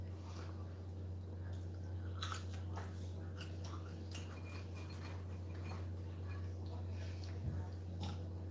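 Crispy fries dipped in sauce being bitten and chewed close to the mic, with soft crunches and squishy bites scattered over a steady low hum.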